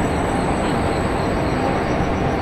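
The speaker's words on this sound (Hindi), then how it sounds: "लोकोमोटिव के पीछे रहने से ना यार थोड़ी लोकोमोटिव की आवाज़ आती रहती है" Steady rumbling rail noise from a WAG 7 locomotive hauling a train in an Indian train simulator game on the Kerala valley route, a continuous broadband roll of engine and wheels at even loudness with no pauses.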